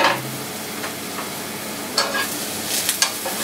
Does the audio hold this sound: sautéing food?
yes